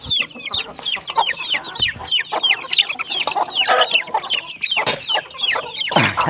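Hens and chicks cluck and chatter busily up close, overlapping calls and squawks forming a continuous, lively flock noise.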